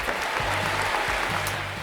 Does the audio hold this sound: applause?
yes